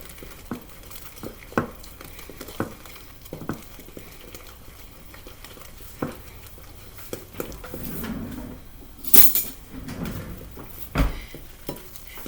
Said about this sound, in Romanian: Amestecăm din nou